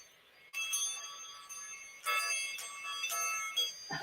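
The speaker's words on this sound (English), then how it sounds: "And I'll do the bells." Small bells ring in bright, repeated jingling bursts during a live show, several clusters of tinkling strikes close by with no talking over them.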